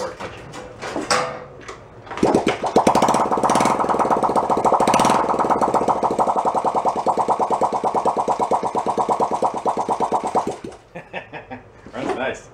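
A worn Honda Trail 70 motorcycle engine, cold, started by hand without choke, catches after a short cranking and runs at a steady, rapidly pulsing idle close by for about eight seconds before shutting off.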